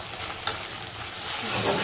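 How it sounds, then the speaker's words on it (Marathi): Ground tomato-onion paste sautés in melted butter for a matar paneer masala gravy: a brief, soft, steady sizzle with a light stir, growing slightly louder toward the end. "त्याच्यामध्ये हे वाटलेलं टोमॅटो कांद्याचं हे पेस्ट टाकणार आहे"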